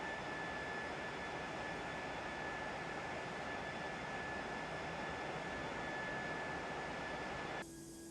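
Aircraft in a flight simulator game, a steady loud engine roar with a constant high whine that holds level throughout before cutting to a quieter tone at the very end.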